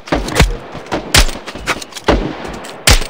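Gunfire in the mobile shooter Standoff 2, four or five loud, close sharp shots spaced about a second apart, each with a brief ringing tail.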